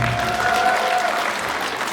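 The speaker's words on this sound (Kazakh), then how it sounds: "бір шапалақ ұрып қояйық" An audience claps steadily at a festive event hosted by a showman in Shymkent, dense continuous applause filling the space without a break.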